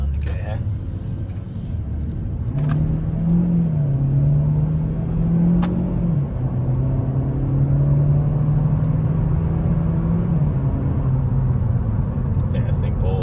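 A 2019 Chevy Cruze accelerating on the road, its engine note rising and holding steady under a constant low rumble of road and cabin noise, heard from inside while people talk over it.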